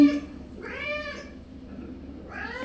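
A house cat meows twice, each a drawn-out, clear, close cry separated by a short quiet gap, over faint room hum.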